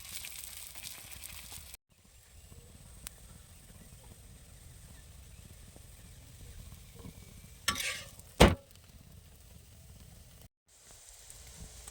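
Parathas deep frying in hot oil give a soft, steady sizzle with a few sharper splashes and bubbling bursts near the end. The sound is quiet and close, and no one speaks.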